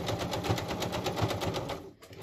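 A sewing machine runs a zigzag stitch through old linen, a fast, even mechanical chatter close by that stops abruptly near the end, with no talking.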